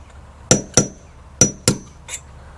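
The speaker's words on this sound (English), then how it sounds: "Then I punch the nail in with the punch." Five sharp metallic hammer taps on a pin punch driving in a nail, in two quick pairs and then a fainter final tap, close by with no talking.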